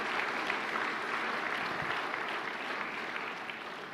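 A church congregation applauds loudly and continuously, a dense, even roar of many hands clapping that holds steady throughout, close and filling the room.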